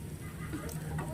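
Garlic sautés in a pan with a brief, steady, close sizzle and faint stirring scrapes.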